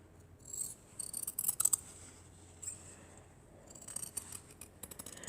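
Scissors snip through a quilt fabric strip in short bursts of crisp, close cuts, with quiet pauses between clusters of snips and a final sharp snip at the end.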